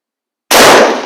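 A single close, loud rifle shot from a CZ 527 Mini Mauser cracks sharply out of silence, then its echo decays over the next half second.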